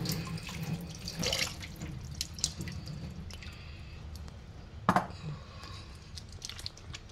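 Water runs from a tap into a sink during face washing with a cleanser, a steady close stream with drips and small splashes, one brief louder splash near the end, and no voices.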